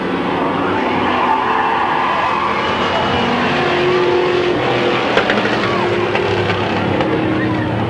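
Street stock cars racing around the Midvale Speedway oval in 1995, a loud continuous roar of engines with occasional tire squeal, heard under faint commentary and crowd noise.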